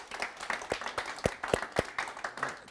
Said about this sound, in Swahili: Wapi makofi ya mchungaji tafadhali?